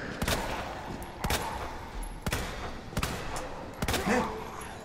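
Five sharp gunshots fire at roughly one-second intervals, each a loud crack over a busy background of game noise.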